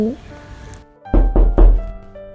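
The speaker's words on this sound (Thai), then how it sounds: "เสียงเคาะประตูดังขึ้นขัดจังหวะ" Knocks on a door: three heavy, deep thuds in quick even succession, close and fairly loud, following a brief stretch of faint background sound.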